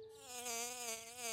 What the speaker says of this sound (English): That's just a honeybee, George.